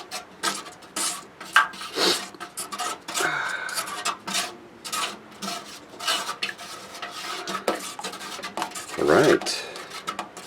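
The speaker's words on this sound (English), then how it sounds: "And I'm just going to keep stirring it." Pine tar paint mixture being stirred in a container, with repeated rough scraping and sloshing strokes in an irregular rhythm, close and fairly loud throughout, no talking.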